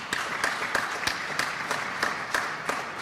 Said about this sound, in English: So a round of applause for David and the Union League Club